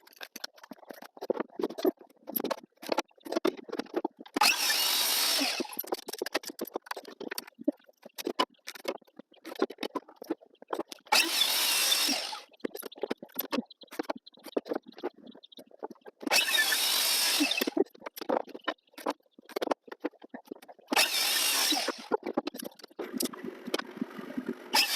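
A power tool cuts wood pieces for a soap mold in four separate bursts of a few seconds each, with quieter handling clatter and knocks between the cuts.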